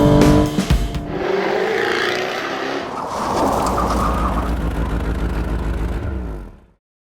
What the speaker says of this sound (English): So I've come down to Hampton Downs to try my car on the track